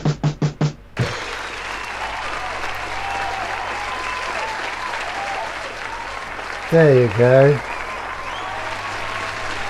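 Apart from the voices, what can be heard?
crowd applause and standing ovation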